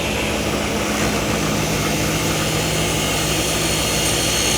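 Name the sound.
table saw switched on and blade cranked up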